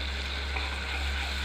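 Yogurt cooking in oil in a pan at a simmer for a Bengali doi begun or doi ilish dish gives a steady, soft sizzle, with a low electrical hum running underneath throughout.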